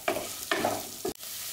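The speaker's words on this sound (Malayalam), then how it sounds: "എന്നിട്ട് ഈ ഇഞ്ചിയും വെളുത്തുള്ളീൻ്റെയും പച്ചമണം മാറുന്നവരെ നമുക്കൊന്ന് നന്നായിട്ട് ഇളക്കി കൊടുക്കാം" Three quick stirring strokes scrape through crushed ginger and garlic frying in a pan, with a soft sizzle underneath, close and fairly quiet.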